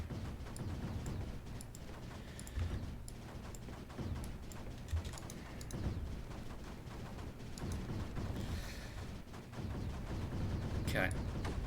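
Mortars and cannons firing in the strategy video game Creeper World 4, a dense run of repeated booming shots and blasts lasting several seconds, continuous and fairly loud.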